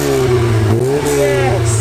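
Outdoors, a Ford Fiesta with an RS accessory exhaust back box holds a loud, steady rev close by, its engine note climbing and wavering slightly, with a voice briefly over it.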